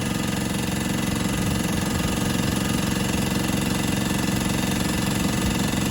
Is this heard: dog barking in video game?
no